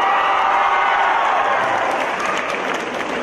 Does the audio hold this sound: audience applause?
yes